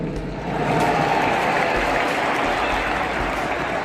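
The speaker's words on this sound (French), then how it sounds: "On applaudit très fort." Applause from an audience at a leadership talk event, a dense wash of clapping that swells in after a brief quieter start and holds steady and fairly loud to the end.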